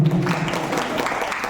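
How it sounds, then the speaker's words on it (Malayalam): Applause from an audience at a Senior Chamber International Murungodi Legion family gathering, a dense, steady clatter of clapping hands that fills the short moment at even loudness. "നല്ലൊരു കയ്യടി നിങ്ങളുടെ ഭാഗത്ത് പ്രതീക്ഷിക്കാം"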